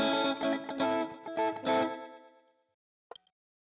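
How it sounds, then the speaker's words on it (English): A Fender Stratocaster electric guitar strums a few bright, clean chords that ring out and fade, followed by a brief pick scrape. "Signature Strat sound."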